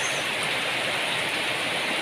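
Heavy rain pours in a steady, dense broadband hiss that stays even and unbroken from start to finish, with no voices over it.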